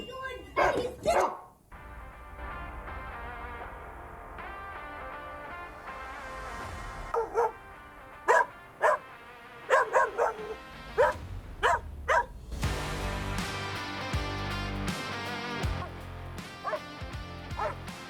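A guard dog barks in loud, sharp bursts at close range, with yips and whimpers in between, while people shout over it amid background noise.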